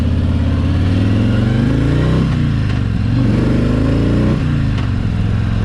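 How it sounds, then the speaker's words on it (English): A 2017 Harley-Davidson Freewheeler trike with a Milwaukee-Eight 107 cubic inch engine accelerates on a ride, its loud close V-twin rumble rising through the revs, dipping at gear changes and climbing again. "this is going to be a 2017, so Milwaukee 8 107 cubic inch motor, so a ton of power."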